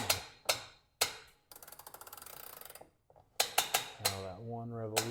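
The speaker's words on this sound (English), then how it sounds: "you're going to tighten this one by rotating that clockwise" Ratcheting clicks from tightening a Torquemaster Plus garage door spring clockwise on the left side: a few sharp separate clicks, a fast rattling run of ratchet ticks, then more clicks before a voice speaks at the end.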